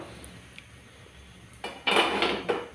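A lid set down over a pan holding a Spanish omelette, giving a couple of close, bright metallic clanks after a quiet stretch, with no talking.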